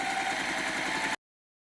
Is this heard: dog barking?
no